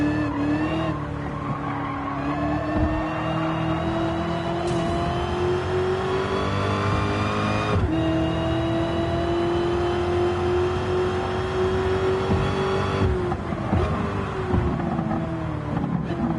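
A race car in Gran Turismo 7 holds a loud, steady engine whine that climbs gradually in pitch, with tire squeal and skidding running underneath and brief dips in pitch at gear shifts.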